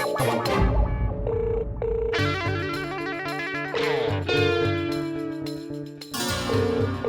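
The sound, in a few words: phone ringing on speaker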